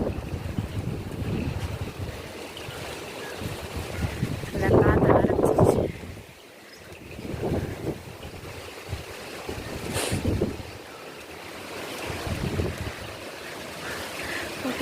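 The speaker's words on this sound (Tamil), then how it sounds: "அந்த தண்ணி சத்தம் தனியாக கேட்குது" Wind gusts buffet the microphone beside a lake at Kodaikanal on a rainy day, with a continuous low rush of moving water underneath and a few stronger blasts rising and falling.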